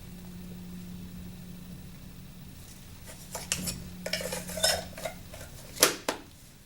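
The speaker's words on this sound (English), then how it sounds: "You want to mix this first for the right consistency." Hair colour pigment is mixed in a bowl, starting with near silence and then a run of sharp, clinking taps and scrapes of a utensil against the bowl, irregular and close.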